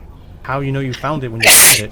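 A sharp, breathy sneeze bursts out loud and close near the end, right after a person finishes speaking a question, amid a tabletop role-playing game session.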